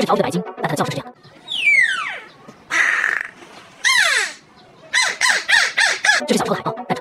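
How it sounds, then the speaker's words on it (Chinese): A beluga whale calls with squeaky chirps and whistles that sweep downward, in clustered bursts broken by short gaps, loud and close. "这是条腿白鲸，但它的叫声是这样"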